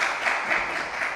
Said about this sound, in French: on va l'applaudir aussi